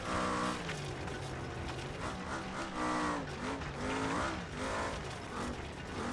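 Car driving hard and skidding in the BeamNG driving game, with a loud, continuous engine drone whose pitch rises and falls over sustained tire-squeal noise throughout.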